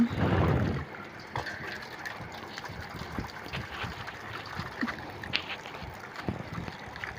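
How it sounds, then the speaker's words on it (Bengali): Leafy greens are swished and splashed by hand in a basin of water, giving a burst of sloshing followed by softer drips and trickles. The sound is close and fairly quiet. "এই শাকগুলো ধুয়ে নিলাম ভালোভাবে"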